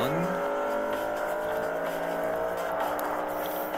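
Exotic cars race in a video game, their engines a steady, loud droning roar that holds without break, with a faint rising whine running through it.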